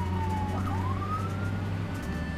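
An ambulance siren sweeps in a smooth rising and falling wail over a steady low engine rumble, loud and continuous with no voices.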